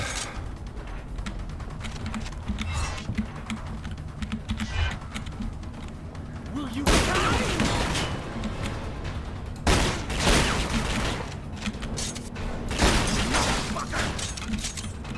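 Gunfire bursts in The Chronicles of Riddick: Escape from Butcher Bay. Loud volleys come in several clusters over a rumbling game soundscape with mechanical clanks between them.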